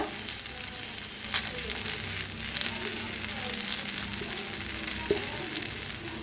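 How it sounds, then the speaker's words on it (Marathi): Okra cooked with garlic masala, salt and coriander sizzles steadily in a pan, a dense continuous frying hiss with a few brief scrapes from stirring. "आता मिक्स करून आणि थोडंसं वेळ भाजून या."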